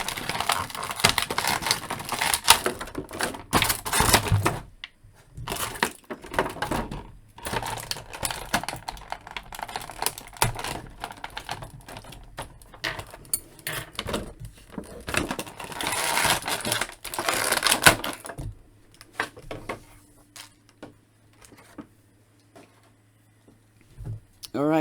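McFarlane Toys Johnny Silverhand action figure from Cyberpunk 2077 being wrestled out of its plastic packaging, with sustained crinkling and clicking bursts in uneven spurts, close up, pausing into near silence before resuming.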